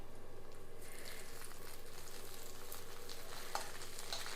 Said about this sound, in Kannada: ತುಪ್ಪದಲ್ಲಿ ಬಿಲ್ವಪತ್ರೆ ಎಲೆಯನ್ನು ಸ್ವಲ್ಪ ಹುರಿಬೇಕು